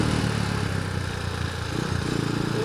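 A Rusi Gamma 200 motorcycle engine runs at a steady, moderately loud putter with an even pulsing rhythm and no voices, as if riding or idling nearby.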